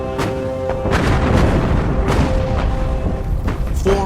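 Warships firing a barrage of shells at the battleship Bismarck, a dense rumble of booming gunfire and explosions, loud and continuous with heavier bursts throughout.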